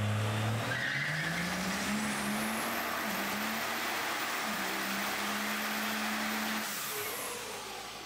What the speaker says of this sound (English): we're doing this burnout here and we're ripping the tires off on the dyno.